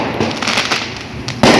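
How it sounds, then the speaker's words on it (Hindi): Firecrackers and fireworks going off during Diwali celebrations on a street in Chicago, a dense continuous crackle with sharper bursts, the loudest at the end, heard alone. "ये पटाखे दिवाली के सिलसिले में हिंदुओं का त्यौहार है"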